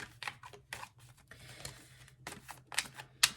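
Quick crisp tarot card riffles and soft flicks come in irregular bursts, close by, with a few sharper snaps near the end.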